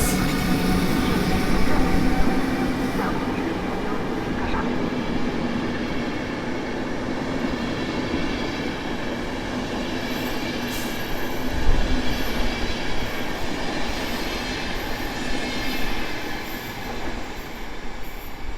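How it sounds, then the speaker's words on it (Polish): A PKP Intercity Premium express from Gdynia Główna to Gliwice pulls into a platform at Warszawa Zachodnia, with a loud sustained rumble of rolling cars, rhythmic wheel clatter and faint squealing brakes throughout. "przy peronie szóstym wjeżdża pociąg ekspres Intercity Premium z Gdyni Głównej do Gliwic"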